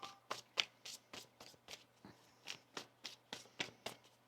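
A deck of tarot cards being shuffled in a steady run of crisp riffling bursts, about a dozen quick flurries close by, with no talking.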